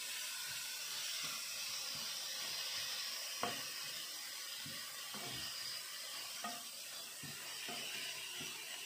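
Grated carrot and onion sizzle in melted butter in a pan, a steady soft hiss with small crackling pops and occasional stirring scrapes, fairly quiet and close.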